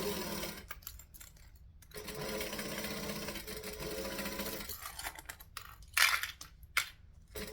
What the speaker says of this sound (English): I'm going to baste this together